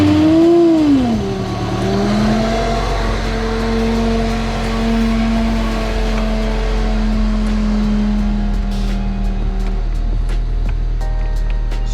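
A supercharged, lifted Honda Civic wagon engine revs hard, then settles into a loud, steady high idle with a whining supercharger tone, close up and alone.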